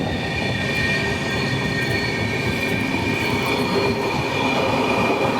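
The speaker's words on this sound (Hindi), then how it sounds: "तो अभी हमारी ट्रेन क्रॉस कर रही है पंचकुरा जंक्शन को" The Gitanjali SF Express rumbles through a railway junction, heard from on board as a continuous loud roar of wheels on track with faint squeal and rattle, steady and unbroken throughout.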